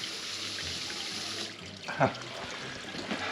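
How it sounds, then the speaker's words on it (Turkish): Water runs steadily from a tap into a sink during bath time for Border Collie dogs, a continuous rushing hiss with a brief louder splash near the middle. "Sudan korkuyor çünkü suyun sesini duymasın."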